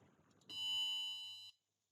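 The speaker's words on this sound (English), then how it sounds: "That sounds like an old computer beeping." A single steady electronic buzzer tone from a maker kit on a Raspberry Pi board, holding for about a second at a fixed pitch before cutting off cleanly, close and alone after a faint murmur.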